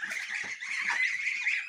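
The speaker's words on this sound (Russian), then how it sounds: "Люба пригнала тут гусей" Geese driven into a yard honk steadily and nearby, a continuous nasal, overlapping chorus with a few rougher calls mixed in, no speech.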